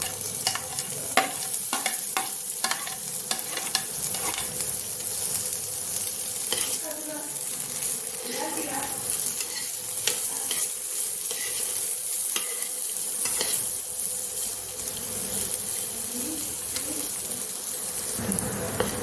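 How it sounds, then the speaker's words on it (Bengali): Soaked cashews and raisins fry in ghee in a pan for kheer, giving a steady sizzle broken by frequent scraping stirs, close and fairly quiet, with no talk. "ভিজিয়ে রাখা কাজু কিশমিশগুলো ভেজে নেব।"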